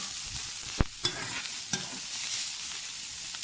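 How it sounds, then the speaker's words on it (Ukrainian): Carrots and other vegetables sautéing in oil for a vegetable base, with a constant close sizzle broken by a few sharp spoon knocks and scrapes as the mix is stirred. "Помішуємо."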